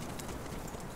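Hooves of a small ridden horse clip-clopping on a trail, a quick continuous patter heard close and moderately loud, without talk.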